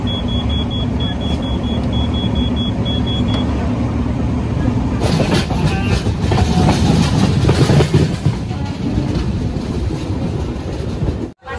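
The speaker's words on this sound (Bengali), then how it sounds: "আমাদের ফার্স্ট স্টেশন রামনগর জংশন, গাড়ি এখান থেকে ছেড়ে বেরিয়ে যাচ্ছে।" Tamralipta Express pulling out of Ramnagar Junction, a loud steady rumble of rolling train wagons with rhythmic rail clatter and a brief high tone early on, close and continuous throughout.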